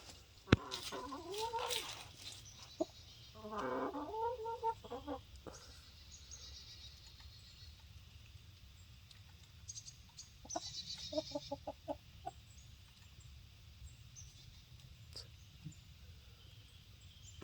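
Olive egger hens cluck and murmur in short bursts at moderate distance, with quiet gaps between and faint background noise.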